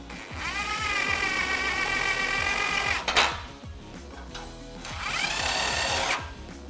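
A power tool winds up and runs in two bursts as it tightens the rear bumper bolts on a Jeep Wrangler JK, a high whirring whine broken by a short clunk and a pause, close and fairly loud.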